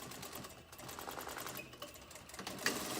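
Sewing machine back tacking while stitching a pleated fabric face mask with elastic corners, a steady mechanical whir of stitching running throughout at moderate volume, with a brighter burst near the end.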